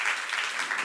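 Church congregation applauding during a youth-service sermon, a brief burst of dense clapping heard alone and fairly loud.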